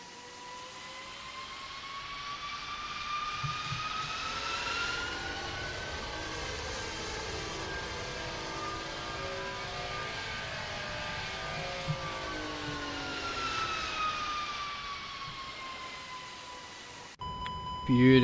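Airbus A340 jet engines spool up to takeoff thrust in a flight simulator soundpack, a steady loud whine with rising and falling tonal layers and a low rumble, heard from outside, ending with a brief click.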